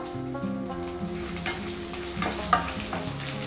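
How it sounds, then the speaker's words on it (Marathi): Garlic cloves and green chilies fry in a pan with a steady close sizzle, punctuated by a few soft clinks and scrapes of stirring, no voices present. "लसणाच्या साधारण मी सात ते आठ पाकळ्या घेतल्या असतील तर छान असं फ्राय करून घेऊ"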